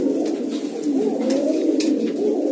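Pigeons cooing continuously at close range, a steady soft warbling murmur of several birds with no talk.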